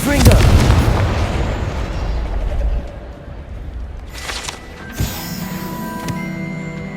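A Confringo blasting curse in the Hogwarts Legacy video game sets off a loud, deep explosion right at the start, followed by a long rolling rumble that fades into quieter magical tones and chimes.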